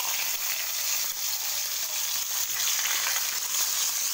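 A halved fish head rubbed with salt and turmeric fries in mustard oil in a wok, producing an even, airy hiss that holds steady throughout at moderate volume.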